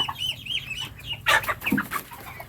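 Chickens clucking among free-roaming backyard poultry, with a cluster of louder, close clucks in the middle of the clip over a steady low background hum.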